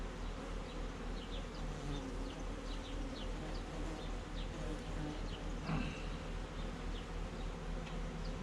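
Honey bees buzzing around an open beehive while a beekeeper works the boxes, a dense continuous hum with individual bees droning past close by and a brief clunk partway through.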